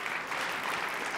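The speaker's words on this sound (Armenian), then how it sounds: "ծանապարում ենք մեր գեղեցկուհիներին ծափարություններով" Audience applause for dancers at a national dance gala final, a steady dense wash of clapping filling the whole moment at moderate level with no break.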